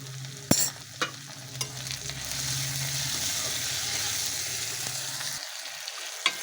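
Tomato and salt are stirred into a frying spice masala for egg-pea ghugni, giving a steady close sizzle with several sharp knocks of a spoon against the pan before the frying suddenly quietens.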